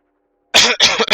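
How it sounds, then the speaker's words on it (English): Allergy cough from a man: after a brief silence, three harsh, close coughs in quick succession, loud and dry, with no speech. "Still got that allergy cough or whatever it is"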